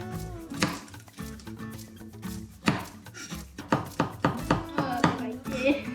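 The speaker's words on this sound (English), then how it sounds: "Next, mince garlic." Garlic being minced with a knife gives a few isolated knocks, then a rapid, close series of crisp chops against a board over soft tonal background sound.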